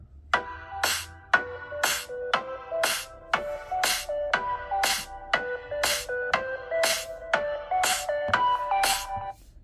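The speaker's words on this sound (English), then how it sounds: "we can do a little bit of dance music here" Dance music plays loud from the built-in speakers of a 2022 iPhone SE, with steady percussive hits about twice a second under a bright synth melody, alone without talk.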